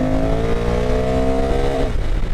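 A 2025 Honda NT1100 motorcycle accelerates hard out of a corner, its loud, close engine note climbing steadily in pitch before dropping abruptly near the end.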